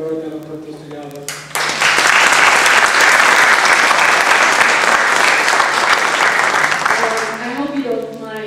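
Loud, sustained applause from an audience at a 2008 Georgia senatorial candidate forum, honoring a board member; it swells in after a brief pause, holds steady for several seconds, then fades as a voice resumes.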